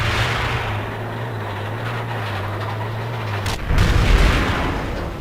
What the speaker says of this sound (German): Er hat den Panzer gesprengt.